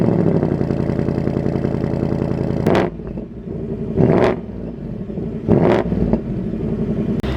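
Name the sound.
Ford Mustang GT Convertible exhaust and engine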